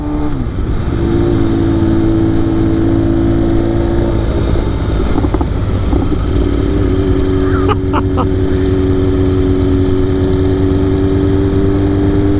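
A small motorbike ridden by a kid gives a continuous buzzing engine drone with a steady pitch that shifts slightly partway through, heard loud and close with no talk.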